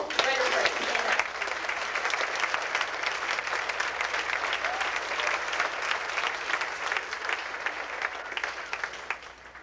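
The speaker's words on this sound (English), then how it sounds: "let's give them a big applause" Sustained applause from a crowd at a 1991 football banquet, dense clapping filling the room for several seconds without letting up.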